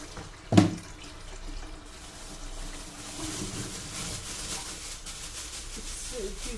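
Tap water runs steadily into a sink while okra is washed, a close, continuous rushing stream with a sharp knock near the start.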